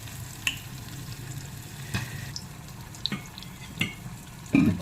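A cranberry pickle with salt and oil is mixed in a bowl, giving soft wet stirring and a few sharp clicks and scrapes over a low, steady background hum.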